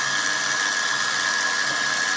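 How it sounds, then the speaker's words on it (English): A milling machine drills a pin hole in a bronze lighter body, a steady high-pitched whine with a sustained tonal ring holding evenly throughout, close and continuous with no talk. "I'm going to drill the hole for the pin to hold the flint wheel"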